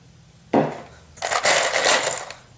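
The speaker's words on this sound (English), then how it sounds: "Take your scissors." Scissors snip through a bundle of Ethernet cable wires to trim them flush, giving a sharp crunching cut followed by a longer rustling crunch, close and alone.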